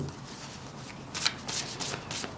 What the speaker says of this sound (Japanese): 最後にオラクルカードを引いてみます